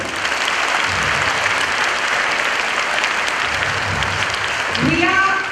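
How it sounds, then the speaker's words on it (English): Children applaud together at a school investiture ceremony, a steady wash of clapping that stays loud and even from start to finish, with a few voices calling out near the end. "Please clap for it."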